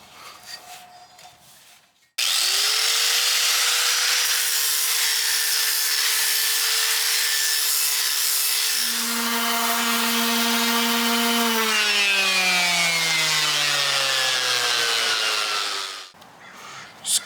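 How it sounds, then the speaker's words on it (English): A power tool with a 60-grit abrasive grinds pits out of a cast iron pan, a loud steady whirring rasp that holds for about fourteen seconds before the pitch sags and the tool winds down, with no talking. "I've almost got these deeper pits out of there"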